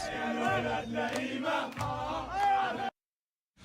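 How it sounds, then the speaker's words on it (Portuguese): Egyptian football fans celebrate their team's qualification for the round of sixteen at the World Cup, a loud dense crowd roar with whoops and chanting voices that cuts off abruptly into silence near the end. "com muita festa da torcida e também dos jogadores"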